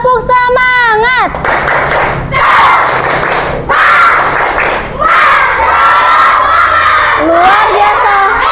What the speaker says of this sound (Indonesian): Bisa kan tepuk semangat?